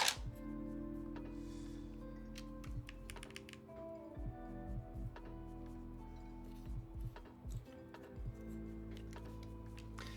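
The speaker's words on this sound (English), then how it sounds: "already putting on keycaps this early" Keycaps are pressed onto a mechanical keyboard, a series of quiet, close plastic clicks and taps in uneven bursts over a steady low background hum.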